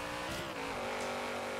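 A racing car on super-thin tires in Forza Horizon 3 slides through a turn with almost no grip, its engine whining in steady tones while faint tire squeal rises briefly, loud and close.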